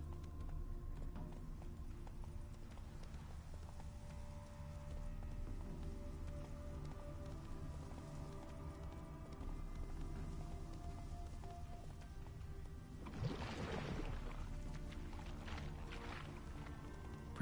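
Horse hooves from The Witcher 3 video game thud in a steady rhythmic clip-clop under a constant ambient game drone, with a brief louder burst near the end.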